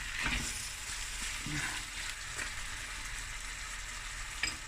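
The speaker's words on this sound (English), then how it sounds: "now I'm going to braise the meat and the onions for about, 15 minutes" Lamb meat and onions braising in a pot, a steady quiet sizzle with a few stirring scrapes and a brief clink near the end, close with no talking.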